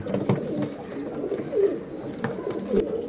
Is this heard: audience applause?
no